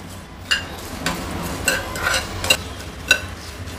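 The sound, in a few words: cumin seeds roasting in a pan on low heat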